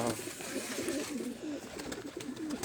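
Caged pigeons coo softly in a continuous, rippling series of low calls, close by and fairly faint, with no talking.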